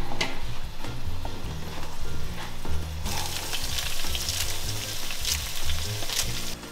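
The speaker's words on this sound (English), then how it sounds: "Using the same oil, she adds 5 sliced garlic cloves and some chopped parsley" Five sliced garlic cloves and chopped parsley sizzling in hot oil reused from an earlier frying, a steady close crackle that swells noticeably louder partway through, with scattered stirring clicks and no voices.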